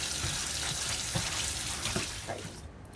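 Hot tap water runs steadily into a kitchen sink for washing up after cutting chicken on a chopping board, a continuous splashing stream that eases slightly toward the end, with no talking.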